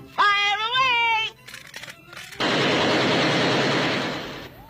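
A 1990 Disney animation documentary scene, where a wavering cartoon-like voice gives way to a long, dense, loud burst of rapid machine-gun fire that slowly fades.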